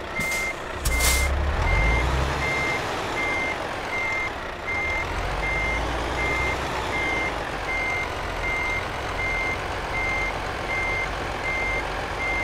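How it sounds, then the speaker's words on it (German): A truck with a Schmitz trailer reverses in Euro Truck Simulator 2. Steady, evenly spaced reversing beeps repeat over a continuous engine rumble, and a short air-brake hiss sounds near the start. "fahr mal eben hier rückwärts rein. Das ist gerade halt so laut immer."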